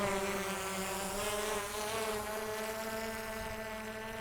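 Motors of an Autel EVO 2 drone run at full throttle as a steady high whine with layered harmonic tones, loud and continuous, with a slight pitch drift and no talk.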